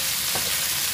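Squid in sauce stir-frying over medium heat in a frying pan, a steady close sizzle with a few stirring scrapes and no talking.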